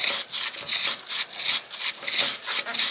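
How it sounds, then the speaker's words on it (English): A stiff, tough brush scrubs a bicycle chain while the wheel turns, giving rough, rhythmic rasping strokes, close and fairly loud, several back-and-forth passes in a row. "You can probably hear that it's quite a tough brush."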